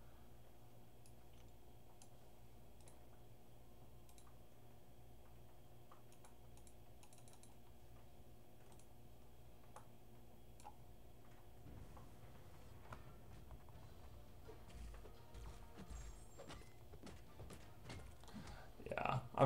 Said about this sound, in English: I've got a really loud mechanical keyboard.